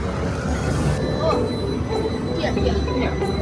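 A Hong Kong tram rumbles steadily nearby with a low rolling rail noise and faint metallic squeals, while people chat over it.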